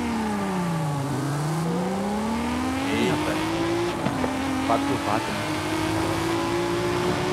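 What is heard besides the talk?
Audi R8 V10 engine accelerating in drag race, video game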